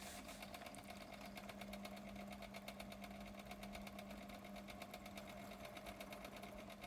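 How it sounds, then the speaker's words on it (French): A 3 mm bit drills through the full thickness of a piece of wood. A faint, steady motor whine carries a fast, even buzzing pulse throughout. "Perçage sur toute l'épaisseur du bois."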